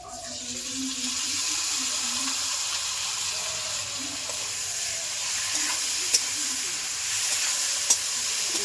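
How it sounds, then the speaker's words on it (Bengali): Potatoes with tomato, dried chili, ginger and garlic paste sauté in a pan with a continuous moderate sizzle, occasional soft stirring clinks and a couple of sharp taps near the end, no voices. "ভালো করে কষিয়ে নিতে হবে"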